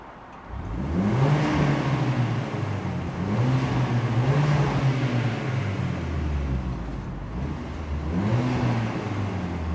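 A car engine drones past nearby, rising and falling in pitch as it revs and moves through, with no voices over it.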